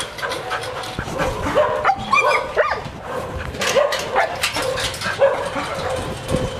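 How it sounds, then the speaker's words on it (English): A Thai Ridgeback dog at a rescue project for disabled dogs at Elephant Nature Park gives excited yips and short barks mixed with whimpers and panting, close by over a noisy outdoor background. "So we go and see a Ridgeback dog."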